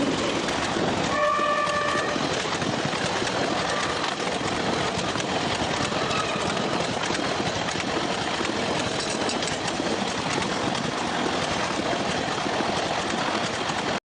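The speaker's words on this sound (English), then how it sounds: "Train." A train rumbles loudly and steadily throughout, with a short horn blast near the start over the constant roar of the engine and the rolling wagons.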